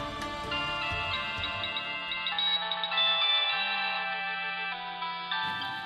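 A mobile phone's ringtone plays a bright, repeating electronic melody at close range, steady and clear for several seconds with soft ticking beneath and no voices.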